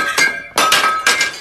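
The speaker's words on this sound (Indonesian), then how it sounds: "Seketika dilemparnya sebuah gelas ke arahnya." Glass thrown and shattering: three sharp, loud crashes of breaking glass in quick succession, each with a bright ringing tail, heard alone and close.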